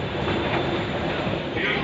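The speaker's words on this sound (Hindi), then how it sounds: "मेट्रो निकल चुकी है अभी अंधेरी के लिए।" A metro train pulls away toward Andheri, heard from inside a carriage: a steady, loud rolling rumble with a faint rail hiss that continues without a break and then brightens a little near the end.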